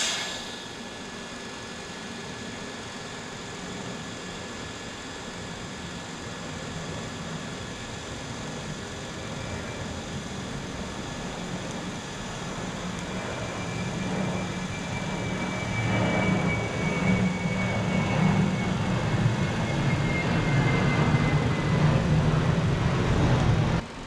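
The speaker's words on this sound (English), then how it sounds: "time to go ahead and weld it around" Welding around turbo build parts produces a steady, dense hiss and crackle that runs continuously, growing slightly louder toward the end, with no talking.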